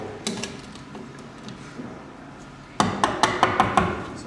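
A chisel is struck with a hammer while cutting a keyhole for a mortice lock, a few scattered taps followed by a quick run of six sharp, evenly spaced blows close by.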